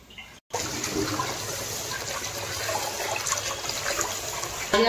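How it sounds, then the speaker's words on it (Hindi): Rice being rinsed in water at home while preparing idli batter, giving a steady close sloshing and trickling wash after a brief quiet start, with a louder splash right at the end. "धो के दोस्तों चावल इस पानी में डाल दिए खोलने के लिए"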